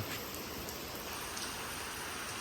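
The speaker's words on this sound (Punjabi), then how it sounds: "ਮਾਰਨਿੰਗ ਟਾਈਮ ਫੁੱਲ ਤੇ ਜੇ ਮੀਂਹ ਆ ਗਿਆ ਉਹਨਾਂ ਦਾ ਮੀਂਹ ਚੈੱਕ ਕਰੋ" Heavy early-morning rain falls steadily in a village, a dense, even hiss with no breaks and no voices.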